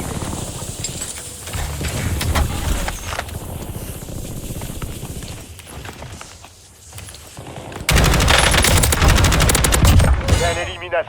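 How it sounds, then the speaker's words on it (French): Dense automatic gunfire from Call of Duty Warzone, with rapid machine-gun bursts and heavy fusillades throughout, growing louder and more intense in a near, sustained barrage over the last few seconds. "J'essuie des tirs."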